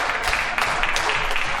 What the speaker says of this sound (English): And a well-deserved round of applause.